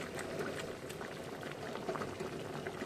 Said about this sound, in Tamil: இப்போ வந்து நல்லா குழம்பு வந்து நல்லா கொதிக்கட்டும்